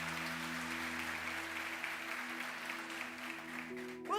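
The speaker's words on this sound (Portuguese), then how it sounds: "Você pode aplaudir a presença de Jesus nesse ambiente." A church congregation applauding, a soft, distant wash of steady clapping with a low sustained tone underneath and faint voices.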